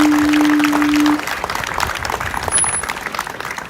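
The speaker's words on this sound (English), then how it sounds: "a big round of applause to Brian Best" Crowd applause rises at an outdoor Key West hurricane flag burning event, a dense, steady wash of clapping from a sizable gathering that holds throughout after a brief tone at the start.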